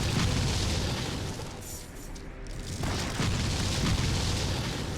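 Heavy, sustained explosive roar from a special-power blast in the Torchlight video game, loud and dense throughout with a brief dip before surging again.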